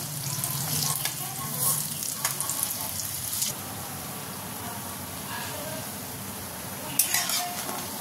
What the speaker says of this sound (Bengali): বড়াগুলো এক পিঠ ভাজা হয়ে গেছে, লাল লাল করে ভাজতে হবে। এই পিঠটা ওরকম ভাবে ভেজে নেব।